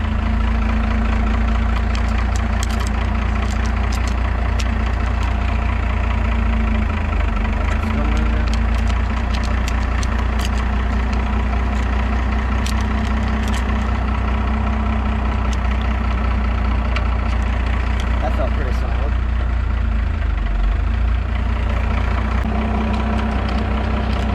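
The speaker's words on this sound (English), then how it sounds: "Alright, I'm gonna let out the clutch. And we're starting to move." Idling 1st Gen Cummins diesel engine in a truck, a steady low rumble throughout as the clutch is let out and the truck begins to roll, with faint intermittent clatter and someone talking over it.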